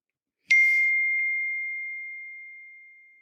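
Phone notification sound, one clean bell-like ding struck once, with a faint second tap, then a long pure tone slowly fading over a few seconds in silence.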